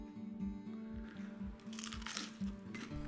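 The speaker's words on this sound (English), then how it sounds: "And just listen to that wonderful satisfying crunch." Crunchy air-fried spicy potato wedge bitten up close, giving a series of crisp, loud crunches and chews in steady rhythm, with no talking.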